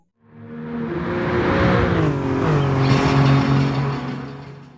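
A Maserati MC20 sports car at Monza rises from silence into a loud engine roar that revs up and shifts in pitch, as if accelerating past nearby, then fades slightly at the end. No voices.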